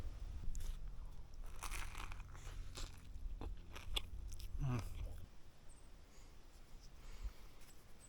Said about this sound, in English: for lunch I'm having tuna on a tortilla with Fritos